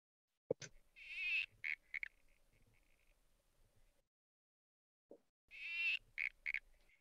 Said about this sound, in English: This is the Barrington Tops tree frog.